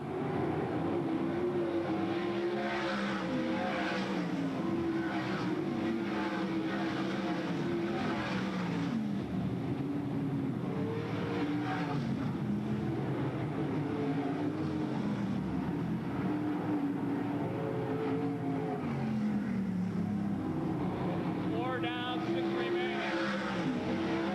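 Race cars circling Bedford Speedway on a 1994 race day, engines droning steadily and overlapping as the pack battles for position, with a constant loud roar throughout and a brief higher tire squeal near the end.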